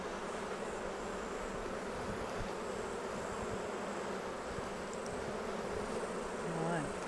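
Honey bees buzz densely and steadily around an open beehive with the brood box off, a close continuous hum that fills the whole stretch with no talk.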